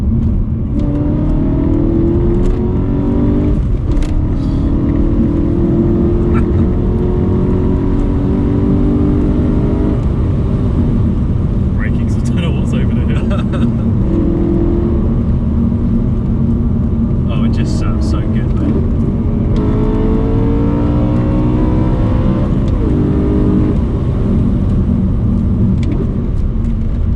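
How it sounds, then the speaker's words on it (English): A decatted BMW M3's engine drones loudly throughout, with rising and falling revs and occasional exhaust crackles, including through a tunnel, while people talk over it inside the cabin. "To be honest, we just wanted to hear that exhaust."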